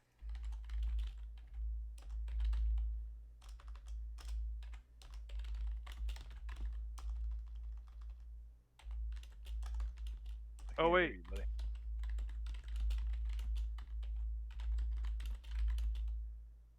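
Fingers clack steadily on a computer keyboard during an online tabletop role-playing session, a quiet, continuous patter of keystrokes over a low hum, with brief voices chatting and a short sound effect midway.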